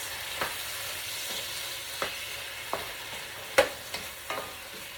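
Clams and mussels cook for seafood paella in a pan, a steady low sizzle with scattered clicks and scrapes of stirring and a sharper clatter near the end, close and moderately quiet.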